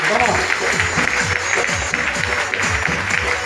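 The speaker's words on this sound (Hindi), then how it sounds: "जबरदस्त प्रोडक्ट के लिए जबरदस्त तालियां चाहूंगा मैं आपको।" Audience clapping fills a marketing plan presentation hall with a dense, steady wash of applause that stays loud throughout, with a low droning undertone beneath it.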